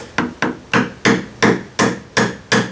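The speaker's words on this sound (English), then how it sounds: "just a light tap like this with a hammer" Eight light, evenly spaced hammer taps on an awl lifting a staple head, crisp and close, each a sharp knock with a short decay, no voices, during a foam edge repair on a Bose 901 speaker cabinet.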